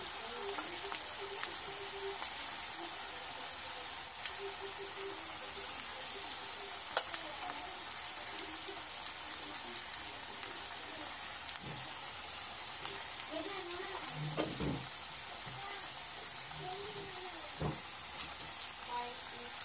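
Crispy onion bhaji (kanda bhaji, pakoda) frying in hot oil, a steady fine crackling sizzle throughout with occasional soft stirring bumps, moderately quiet and close, no talk over it.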